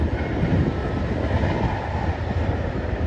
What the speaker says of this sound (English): The train is still coming by. It's very long train.